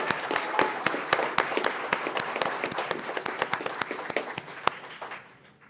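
A modest group at a school governing board meeting applauds, crisp distinct hand claps in a quick uneven rhythm that gradually thin out and fade near the end.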